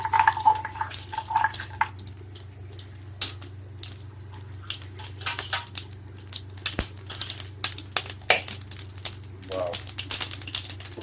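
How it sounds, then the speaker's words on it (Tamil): Mustard seeds and urad dal splutter in hot oil, with scattered sharp pops and crackles over a low kitchen hum, and a voice is heard briefly. "அந்த கடுகு பொறியை பொரியுது"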